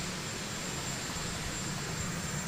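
A helicopter at the White House, its engine making a continuous, even roar and whine across the whole stretch, fairly distant and unbroken, with no one speaking.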